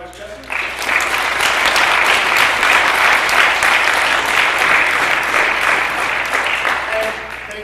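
Audience applause after a public debate on whether God exists, a dense sustained clapping from a sizeable crowd that swells in sharply after a brief quieter start and holds steady at full volume to the end.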